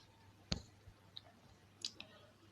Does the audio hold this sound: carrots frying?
no